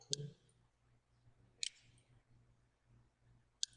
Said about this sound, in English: Click on the move tool and we have the center.